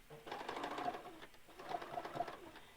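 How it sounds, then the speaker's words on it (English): A sewing machine stitches through fabric with a steady, pulsing mechanical whir that runs close and continuous for about three seconds, with no talking. "So I'm going to just stitch that, and I'm going off of my fabric tag."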